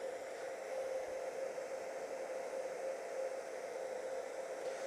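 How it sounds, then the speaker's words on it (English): A household hair dryer runs steadily while heating a CrossBreed holster to loosen its retention, giving an even airy whir with a constant tonal hum at moderate distance and no voices. "just your good hair dryer"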